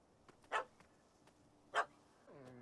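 A dog barks twice in The Witcher 3, two short, sharp barks about a second apart over quiet ambience, followed by a voice starting at the end.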